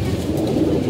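Pigeons loosed from their loft coo in soft, low murmurs, a continuous warbling burble close by that fills the clip with no clear pauses.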